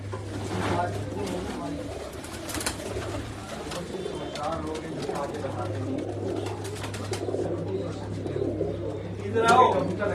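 Pigeons kept by a fancier coo in low, rolling calls, with a steady hum underneath. Voices talk over the birds through most of the stretch.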